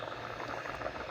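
Water for norang matar pulao rice bubbling hard in a pot over a full flame, a dense, steady rolling boil with no talk.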